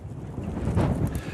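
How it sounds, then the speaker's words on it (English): Wind roars during a 2018 wind storm, a low rumbling rush that swells toward the middle and then eases slightly, fairly close and with no voices over it. "And the wind's now picking up again."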